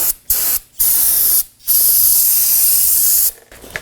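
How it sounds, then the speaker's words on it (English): Several sharp bursts of solvent cleaner spray hiss loudly from an aerosol can onto a Toyota Camry wheel hub sensor area, separated by brief pauses, then one long continuous spray before it stops. "Use some spray solvent, give that a cleaning."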